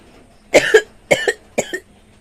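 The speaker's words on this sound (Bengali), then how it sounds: "কাশি" A person who is unwell coughs three times in quick succession, close and loud, with brief silences between the bursts.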